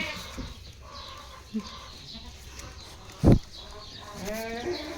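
Goats and newborn kids gathered at a pasture feeder, with scattered soft bleats, one sharp close knock or thump, and a faint higher bleating toward the end over quiet outdoor background.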